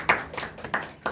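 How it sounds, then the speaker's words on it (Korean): A handful of sharp hand claps sound in quick succession from a small audience at a lean-startup class, fairly close and without speech. "여기도 박수"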